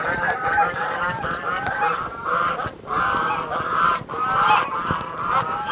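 Geese on a farm honk repeatedly in a loud, close chorus of overlapping calls that runs through the whole stretch.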